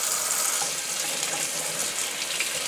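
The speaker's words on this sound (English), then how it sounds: "So I'm going to rinse these under water now." Tap water runs steadily into a kitchen sink while coffee maker filters in their holder are rinsed under it for a Cuisinart 12 Cup Coffee Center Grind & Brew Plus, a continuous hissing splash with no talking.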